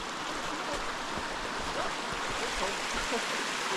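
Mountain stream flowing in Ferguson Canyon near lingering snow, a constant broadband rush of water with no breaks, moderately loud and close.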